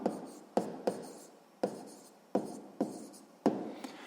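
A pen scratches on paper while a sixth-grade maths solution is written out: short, close strokes in an uneven rhythm of about seven bursts, with no talking.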